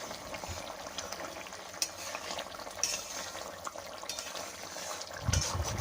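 Rohu fish curry with green peas simmers in a kadai, giving a steady soft bubbling and sizzling with a few faint clinks of a utensil against the pan, and no talk.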